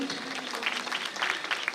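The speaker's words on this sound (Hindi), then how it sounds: "एक बार तालियों के साथ अभिनंदन" Audience applause at the Atal Sangeet Shikhar Samman 2024 ceremony, part of the national Atal awards event at Bharat Mandapam, a steady dense clapping of a crowd holding level for nearly two seconds with no voices over it.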